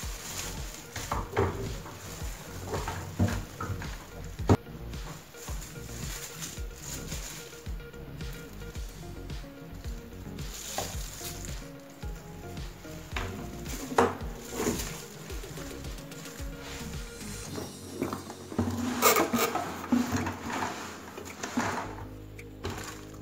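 A Gardenplus Pro-52 brush cutter engine being lifted out of its box, with irregular rustling, thumps and cardboard and plastic handling noises close by.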